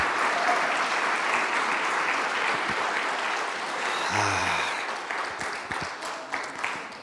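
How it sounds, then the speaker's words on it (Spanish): A church congregation applauds steadily and fairly loudly for several seconds, the clapping thinning and tailing off toward the end with a brief voice heard partway through. "quiero pedirles que les demos un aplauso de reconocimiento, de aprecio para todos ellos, pero muy fuerte ese aplauso de gratitud"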